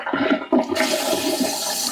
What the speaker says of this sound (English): it's just going to flush automatically, just like that